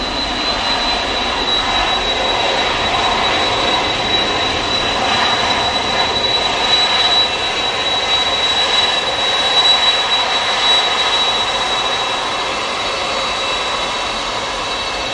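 Airbus A330 jet engines roar steadily and loudly at Manchester Airport as the aircraft departs for Faro, a continuous broadband rush with a thin high whine, no voices.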